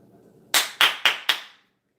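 Four sharp hand claps ring out in quick, even succession, in the emphatic style of American football coach Jason Garrett, close and loud against near silence.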